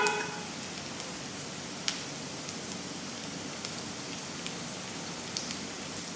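Chopped garlic sizzles in a hot pan for rock n roll paneer, a steady soft crackle and hiss with a few brighter pops, close and moderately quiet, with no talk.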